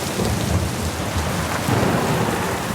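A stormy weather sound effect fills the space with dense, loud rain and rolling thunder, a continuous broadband roar with low rumbles and no talk.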